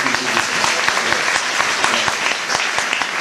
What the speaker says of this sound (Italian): grazie ancora a Carlo con un altro applauso per questa grande contribuzione